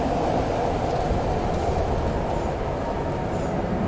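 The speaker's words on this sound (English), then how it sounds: "All aboard the fish coaster." A maglev fish coaster ride in the Riven video game, heard as a steady low rumbling hum of rail travel, loud and continuous, with no talking.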